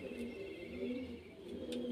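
A golden Kasuri pigeon coos in low, steady, repeated murmurs, faint and close, with a few light chirps and no speech.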